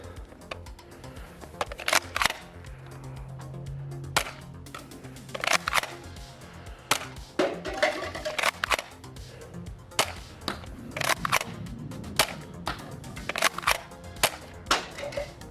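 A Nerf foam-dart blaster fires repeatedly at cups set 30 feet away, producing a string of sharp, snappy pops spaced irregularly over steady background noise.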